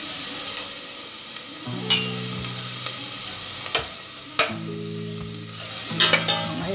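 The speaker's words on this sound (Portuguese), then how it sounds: "Aí a gente dá uma murchadinha aqui nessa cebola. Vamos colocar o alho." Onion and garlic sizzle steadily in a pan while being sautéed for rice, with a spoon scraping and stirring in repeated sharp clacks every second or so.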